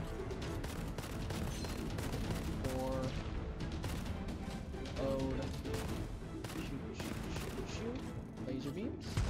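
Dense, continuous video game weapon fire with laser beam blasts and shooting, a steady loud barrage of bursts and zaps running the whole time, with talk mixed in.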